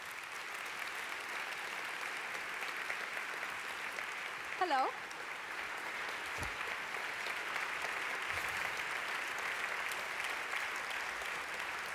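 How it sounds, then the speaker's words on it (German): Steady applause from an audience at a Vienna talk event welcomes speakers onto the stage, with a voice briefly heard over the clapping. "Einen großen Applaus an die Klimaaktivistin"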